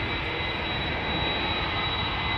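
KLM Airbus A330-200 lining up for departure on the Polderbaan runway at Amsterdam Schiphol, its jet engines a loud, steady broadband roar heard close and alone.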